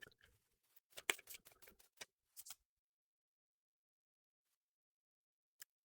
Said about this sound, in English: this is a test for sound and shuffling